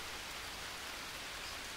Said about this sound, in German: Dann haben wir hier Regen.